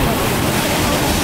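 Sea water surges into the La Bufadora blowhole on a cliffside coast, a loud continuous roaring wash mixed with wind rumble on the microphone.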